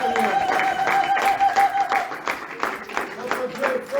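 Church congregation clapping in rhythm during a worship service, steady repeated claps mixed with voices and a sustained tone.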